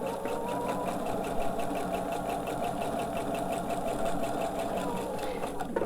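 A sewing machine stitches a mitered quilt border in one steady, continuous hum of rapid needle strokes that stays close and even throughout.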